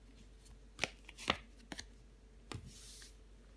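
Tarot cards are laid one by one onto a table, giving a few soft, close slaps and flicks spaced over a few seconds in an otherwise quiet room.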